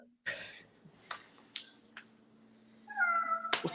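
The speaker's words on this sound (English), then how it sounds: "There's a cat." A house cat meows close by, one clear meow near the end after a few faint clicks and taps, set against an otherwise quiet room.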